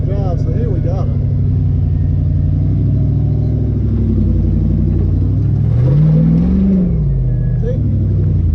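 An off-road vehicle engine rumbles steadily, revving and straining while driving through trees in two-wheel drive on a Halloween trail ride, with people talking over it throughout.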